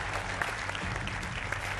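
A studio audience at a Hindi television political debate show applauds to welcome the guests, a dense, steady clapping that carries through the whole moment without pause.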